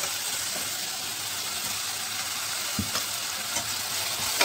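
Ginger garlic paste sautéing with salted onion and vegetables in a pan, giving a loud, continuous hiss of frying broken by a few sharp spatula knocks and scrapes.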